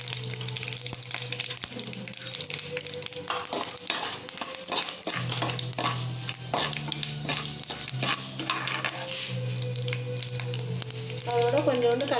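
Mustard seeds and urad dal fry in hot oil for South Indian coconut rice, a continuous close sizzle with frequent stirring scrapes and small crackles.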